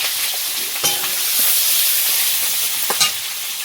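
Panch phoron spices, onion and garlic sizzle steadily in hot oil, a close, continuous hiss with a few brief crackles and pops and no talking.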